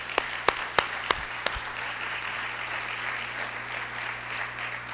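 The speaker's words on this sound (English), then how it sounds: "let's give them a round of applause." Applause for the mayor's cabinet at a State of the City address, a broad, distant-sounding wash of clapping from a large hall, with a few sharp, close claps standing out near the start.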